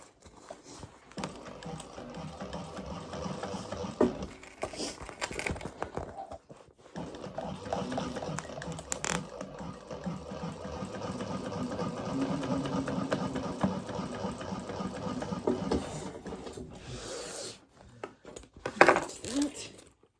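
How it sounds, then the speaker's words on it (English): A sewing machine runs a stay stitch around butter bag fabric in uneven bursts of rapid clatter, close by, with short pauses and handling knocks between runs. "I'm just putting a stay stitch all the way around so I can go back and take out my staples"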